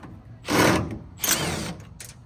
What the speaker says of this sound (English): Take off these Phillip heads, they're on here.